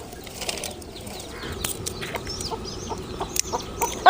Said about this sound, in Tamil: கோழி குஞ்சு கொத்துது.